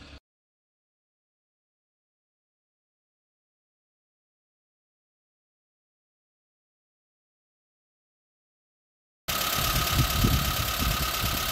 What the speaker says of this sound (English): we'll just wait for this car to warm up so we can demonstrate it